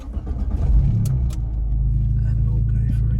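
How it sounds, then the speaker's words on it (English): A car engine cranks and catches during a mock driving test in Barnet, settling into a low steady idle rumble close by, with some brief clicks and shuffles near the start. "So, whenever you're ready, start the car."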